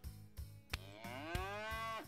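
Cattle moo in the video game First Feudal, a single long, loud lowing call rising in pitch and sustained to the end, with a few short clicks and thumps from the game before it.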